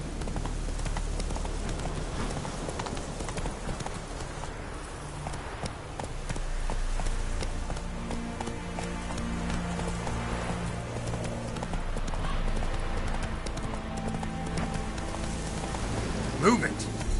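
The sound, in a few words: horse Roach galloping in The Witcher 3 video game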